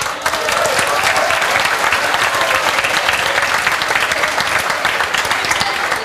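A large audience bursts into loud, sustained applause, a thick continuous roar of clapping from start to finish that drowns out any other sound.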